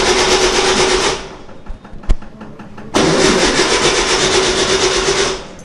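Car engine is cranked by its starter in a house basement, catching and running loudly, dropping briefly, then another crank with a sharp click bringing it back to a steady close idle roar.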